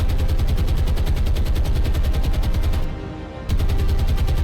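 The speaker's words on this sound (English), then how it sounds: "That's 303 machine gun." .303 machine gun firing in the naval combat video game War on the Sea, a loud, rapid continuous stream of shots that breaks off briefly before resuming, dense and close.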